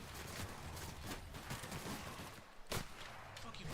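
Rapid pistol shots ring out in The Outer Worlds video game, a dense string of sharp cracks at modest level mixed with game sounds, with no talking over them.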